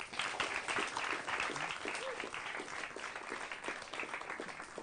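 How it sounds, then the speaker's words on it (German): Sustained audience applause during crew introductions on a 1994 television programme, a steady wash of many hands clapping with a faint voice underneath. "trotzdem einen Applaus bitte"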